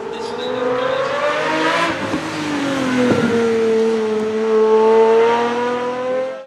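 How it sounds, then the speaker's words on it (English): A Pagani Zonda 760 LH hypercar with a 750-horsepower naturally aspirated V12 revs hard. Its screaming engine note climbs and dips through several sweeping pulls, loud and close, with no talking. "this one-of-a-kind hypercar is an absolute beast with a 750 horsepower naturally aspirated V12 that screams like a banshee"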